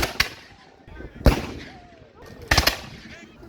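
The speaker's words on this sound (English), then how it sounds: "Seems like there's going to be some cannon fire." Three sharp, distant booms of cannon fire at a Revolutionary War battle reenactment, spaced about a second apart, each trailing off into a faint echo.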